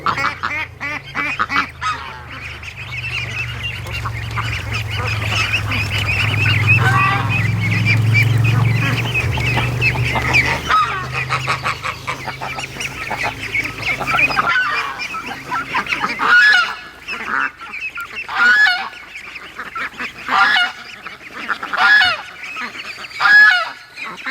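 A goose by the water honks repeatedly, loud and close, in uneven bursts that grow choppier toward the end, over a low rumbling background.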